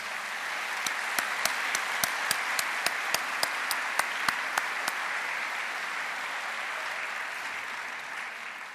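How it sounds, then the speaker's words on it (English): Lecture audience applauds in a steady wash of clapping, with a few sharp individual claps standing out in the first half before it thins toward the end. "So please join me in giving them a round of applause."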